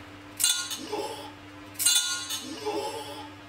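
Metal whisk parts clinking and rattling as the whisk falls apart during vegan poke cake batter mixing, two quick bursts of bright clatter a little over a second apart, fairly close with a low hum behind.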